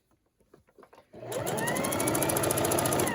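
A sewing machine stitches down a mitered fabric corner on a Christmas table runner, starting after a few soft handling taps and then running steadily and loudly at an even fast rhythm, close up and alone.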